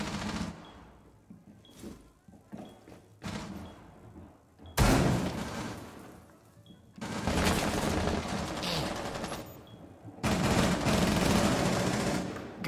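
SMG gunfire in a video game: scattered short bursts, then several long, loud, sustained strings of rapid automatic fire separated by brief pauses.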